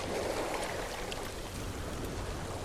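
Water rushes and churns loudly and continuously in No Man's Sky, a dense, even wash of noise with no voices.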